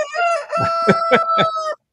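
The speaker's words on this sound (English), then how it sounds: "He heard that there's a rooster in the sound effects." A rooster crowing sound effect: one loud, close, drawn-out cock-a-doodle-doo with a stepped, rising-and-falling call that ends abruptly, heard alone.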